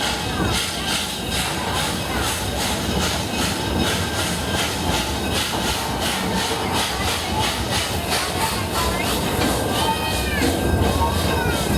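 The Omaha Zoo Railroad train rumbles steadily along the rails with rhythmic clicking and a hissing undertone, close and continuous, while people talk over it.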